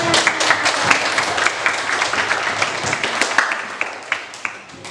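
Schoolchildren in a classroom clap together in a dense, sustained burst of applause lasting about five seconds, loud and close, with no talking over it.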